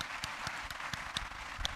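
College students in a hall give faint, sparse applause, with a few distinct claps standing out at fairly regular intervals over a soft background of room noise.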